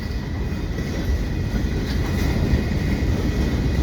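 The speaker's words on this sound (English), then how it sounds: "Quebec Gatineau Railway train." A Quebec Gatineau Railway freight train heading northbound at the Des Prairie Blvd crossing in Laval rumbles past, a loud continuous low roll of railcars with faint steady clatter and a thin tonal whine.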